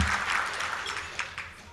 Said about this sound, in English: Yeah, go ahead, you can applaud.